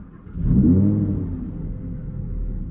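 An Audi R8 with an APR kit catches and roars up in a quick rev, then settles into a low, steady idle rumble close by, exhaust in normal mode.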